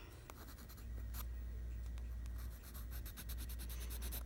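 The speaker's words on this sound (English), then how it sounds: "So I'm laying down a color that is called sand, which is in the Crayola color pencil box" Crayola colored pencil laying down sand-colored base shading on paper, a steady close scratchy rubbing with brief stroke accents, heard alone over a low hum.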